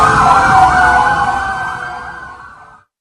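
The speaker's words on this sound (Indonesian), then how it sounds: "beberapa kendaraan taktis berada di depan gerbang kantor Korps Adiaksa sambil menyalakan sirine maupun rotator" Siren from tactical vehicles parked at a government office gate wails steadily and loudly, then fades and cuts off near the end.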